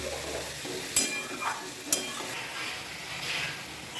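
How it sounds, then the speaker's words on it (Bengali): Poppy seeds being stirred in a kadai on the stove, with soft scraping and faint sizzling plus a couple of sharp utensil knocks against the pan, close and fairly quiet. "এখানে পোস্ত দিয়ে তারপর বেশ কিছুক্ষণ কড়াই নাড়াচাড়া করতে হয়"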